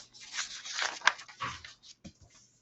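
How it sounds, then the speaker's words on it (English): A dog runs by during a maths lesson, its panting, whimpering and scrabbling close by and short, fading out after a couple of seconds. "as a dog runs by."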